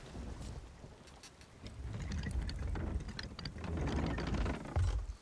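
Wind blowing across the open sea in Sea of Thieves, a gusty, rumbling roar that swells and fades, with creaking and splashing textures mixed in and no voices.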